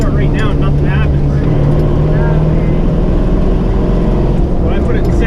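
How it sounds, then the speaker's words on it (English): A car's engine floored at low revs, straining below 3,000 rpm with little response, makes a loud steady droning roar close by, with someone talking over it. "Like I floor it right now and nothing happens."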